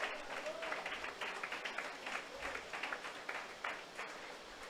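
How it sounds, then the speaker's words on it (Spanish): Church congregation applauding during an evening service in Quito, a moderate, steady patter of many hands that runs the whole stretch and seems slightly distant, with no voices standing out. "Alguien dele un aplauso a Dios en esta tarde."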